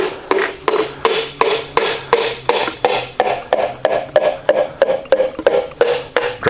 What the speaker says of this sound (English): I've got a piston hammer here.